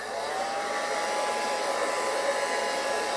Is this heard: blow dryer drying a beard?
yes